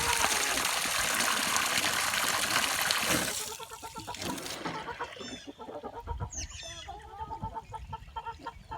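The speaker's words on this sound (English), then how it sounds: "He don't want to do it when the water's running." Tap water gushes noisily into a duck's water container for a few seconds, then stops, leaving softer trickling and nearby fowl clucking.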